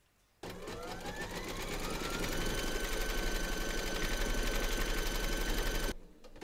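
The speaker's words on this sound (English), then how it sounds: "Pop your hoop into your machine and stitch round number three to secure them" An embroidery machine stitches round three in a hoop, securing fabric on a large surfing Santa applique: a steady, loud, fast mechanical stitching rhythm that starts abruptly and runs continuously for several seconds before stopping.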